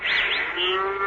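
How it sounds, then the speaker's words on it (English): A cow moos in a long, drawn-out bellow, loud and close, over a steady wind-like background as a sound effect in a radio drama. "Oh, the cow's due for milking, too."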